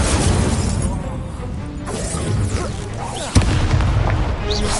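Fire spell cast in the video game Hogwarts Legacy during a tournament battle: dense booming, crackling blasts with a sharp impact near the middle, loud and continuous amid chaotic combat effects.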